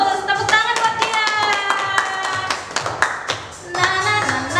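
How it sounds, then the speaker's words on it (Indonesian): Children and leaders clap their hands at an online Sunday school church service, sharp rhythmic claps mixed in with singing and music, fairly close and prominent. "Tepuk tangan buat dia."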